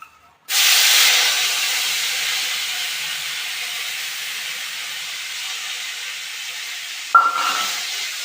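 Ground spice paste hitting hot oil for a carrot dish, a loud, steady sizzle that bursts in abruptly and hisses on without pause, with a brief sharper flare near the end.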